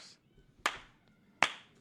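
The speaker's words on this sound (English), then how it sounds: "a slow clap to match your slow pace" Two slow, sharp hand claps spaced almost a second apart, each ringing briefly in a quiet room.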